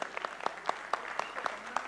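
An audience claps in a steady, moderately paced rhythm at a family business seminar, roughly eight distinct claps in under two seconds, indoors and fairly close.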